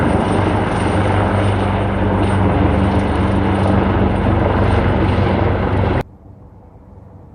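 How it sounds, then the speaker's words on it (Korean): A low-flying airplane roars loud and steady overhead above a garlic field in the countryside, then cuts off abruptly, leaving a faint quiet background. "비행기가 왔습니다. 비행기."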